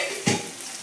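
Spiced peanuts are stirred in a hot pan for sabudana khichdi, a brief scrape over a close, continuous sizzle.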